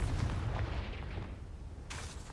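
Confringo fire spell exploding in the Hogwarts Legacy video game, a muffled low rumbling boom that fades over a couple of seconds, followed by a brief brighter burst at the end.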